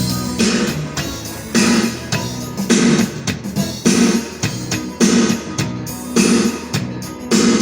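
Electronic keyboard, driven by a second keyboard through MIDI cables, plays a steady basic rhythm pattern: punchy repeating beats with bass and chordal accompaniment in a regular loop, fairly loud and close, no voices.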